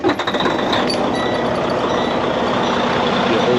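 A truck's diesel engine turning over and catching, after the clutch is pushed in, during a pre-trip inspection. It stays loud and steady, with a rough rumble throughout and a few bursts near the start.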